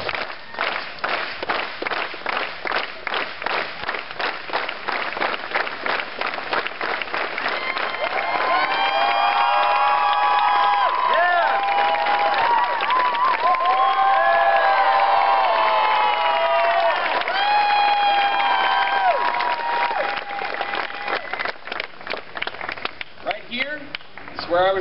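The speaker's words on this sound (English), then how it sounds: "let's get a rhythmic clap going" A crowd at an outdoor pole stunt show claps in a steady rhythm, a dense, even patter of many hands that carries on while cheers and whistle-like voices swell over it through the middle.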